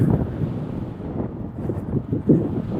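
Gusting wind buffets the microphone of someone cycling up hilly ground, a dull, close rumble that swells and fades in uneven bursts with no voice over it.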